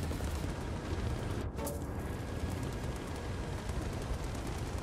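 Heavy artillery fire in a tank combat video game, one sharp boom near 1.5 seconds cutting through a constant loud rumble of battle noise, with no talking.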